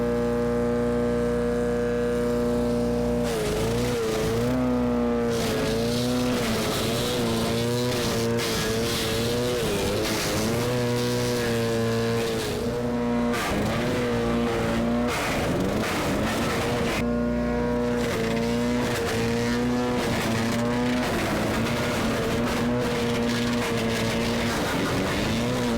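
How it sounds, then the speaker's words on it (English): A wood chipper working through garden brush in winter gives a loud, continuous motor drone whose pitch surges and dips repeatedly as branches feed in, heard close and alone for about twenty-five seconds. "I'm going to get a gun and the chipper, hopefully get all this chipped today"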